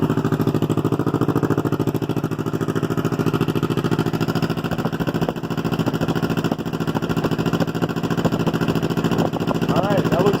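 A used motorcycle engine, started after sitting unused for about six months, runs steadily at a loud, even idle close by, with someone talking over it.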